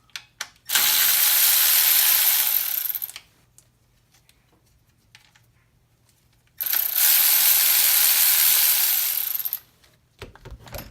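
A ratchet undoes the coil pack bolts on a Toyota MR2 during a spark plug change, heard as two loud, sustained bursts of rapid clicking, close up, separated by near silence.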